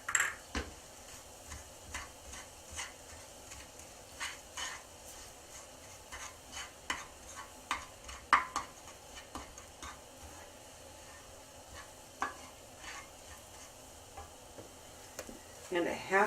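Walnuts with brown sugar toast in a pan, giving a faint sizzle under scattered light scrapes and ticks of a utensil stirring, quiet and close throughout.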